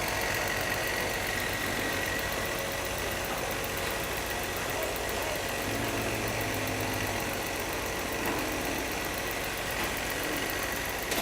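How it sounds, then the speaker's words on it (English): Industrial novelty stitching machines, including overlock machines, run together on an embroidery factory floor, making a steady, loud mechanical hum and drone that holds without a break. "On this side of the factory is all of our novelty stitching machines."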